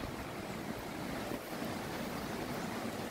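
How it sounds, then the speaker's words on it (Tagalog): Steady rushing water of Tinago Falls, a waterfall in Iligan, roaring as a constant broadband wash that stays loud and even throughout, with no talk. "Madungog din nato ang tingog sa busagak sa tubig sa Tinago Falls."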